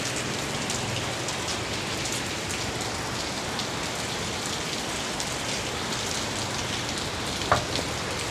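A sustained downpour roars evenly throughout, thick drumming of raindrops nearby, with one brief sharp knock near the end, caught outdoors with no shelter.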